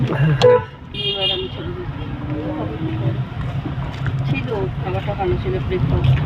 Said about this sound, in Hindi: देखिए गाड़ी आ रही है भैया